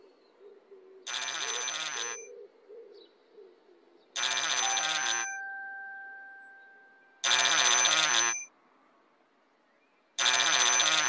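A toy telephone rings in a children's TV show set in a night garden, sounding four loud, bright bursts about a second long, separated by pauses, with a faint steady tone holding between two of them.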